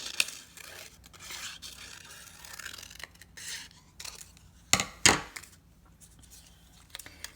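Scissors snip through paper for a notan cut-out art project, a few close, quiet cuts with crisp sharp snaps and soft paper scraping between them, no talking.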